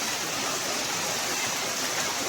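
Heavy rainwater rushes past like a stream during a downpour at a village field after sowing. It makes a steady, dense, hissing roar that stays even and close throughout, and no voices are heard.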